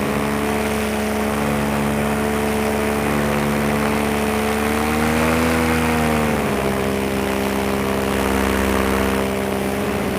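A small propeller airplane drones loud and steady nearby, its engine pitch dipping and rising as it comes in to land on rough ground in Iceland.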